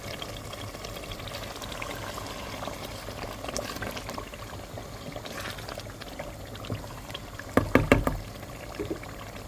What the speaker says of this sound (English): We'll leave it for a while to boil, to cook.